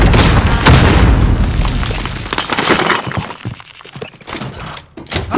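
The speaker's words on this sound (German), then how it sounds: "Blendgranate geworfen!" In the video game Warzone, a flashbang grenade is thrown and goes off in a loud, close boom with a shattering crack. Debris and scattered impacts follow, rattling on for several seconds.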